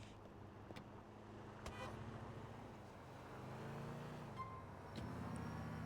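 A car driving in the city streets of Grand Theft Auto IV, a faint engine hum with steady traffic noise, a couple of short horn toots and the engine note shifting as it accelerates.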